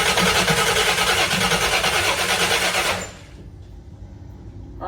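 A 1966 Chevelle engine runs loudly and steadily for about three seconds, then shuts off, leaving only a faint low hum.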